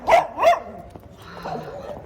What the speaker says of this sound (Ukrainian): Господи, собаки.